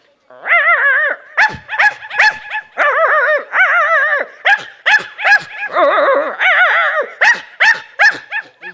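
Human mimicry of a whole pack of dogs barking at once: dense, overlapping yips, howls and barks, loud and close, nearly continuous, all voiced by one artist in a mock-art performance.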